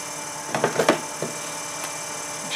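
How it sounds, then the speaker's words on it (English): A woodturning lathe for pen making runs slowly with a steady low hum, broken early by a few light knocks and taps close by. "We're going to turn the lathe down low."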